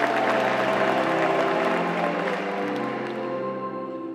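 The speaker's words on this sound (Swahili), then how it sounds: "Na sisi tujipigie makofi, tumemlea" A parish congregation at a Catholic thanksgiving Mass applauds together, a dense, loud burst of clapping from many hands that holds steady and slowly tapers off over a few seconds.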